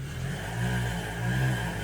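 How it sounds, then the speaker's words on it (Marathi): A nearby auto rickshaw engine idles and revs with a low, steady chugging hum, swelling twice in gentle surges, with no voices over it. "रिक्षा आली."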